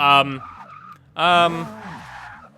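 Tires skid and squeal as a car pulls a hard wheelie in Forza 6, in two loud bursts separated by a short pause, the second trailing off into a rougher tail.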